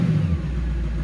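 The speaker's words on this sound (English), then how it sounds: "The engine sounds good. There you go, you can hear it from here." An Audi A8 4.2 V8 engine rumbles low and steady at close range, with a slight drop in pitch partway through, no voices present.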